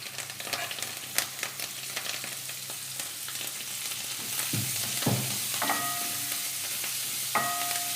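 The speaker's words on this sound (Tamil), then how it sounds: "நான் கடாயில் எண்ணெய் ஊற்றிட்டு இப்போ இந்த வெங்காயம்," Onion and mint frying in oil in a kadai, a steady close sizzle with occasional stirring clatters and scrapes, no talking.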